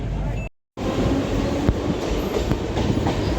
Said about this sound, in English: I'm going to college by local train from Ghatkopar to Matumba.